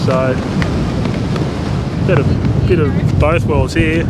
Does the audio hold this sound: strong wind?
yes